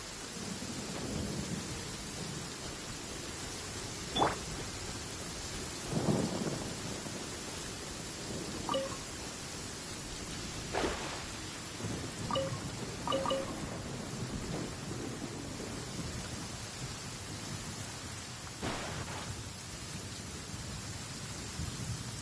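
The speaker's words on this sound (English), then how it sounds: "Many people dread the sound of thunder." Steady rain in a video game with several thunder rumbles and cracks breaking through the downpour, no voices.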